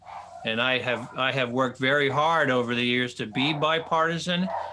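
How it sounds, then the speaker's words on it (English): A dog barks somewhere in the background of a home, its yaps partly buried under a man's continuous, close speech. "I think you can hear my bipartisan dog barking right now."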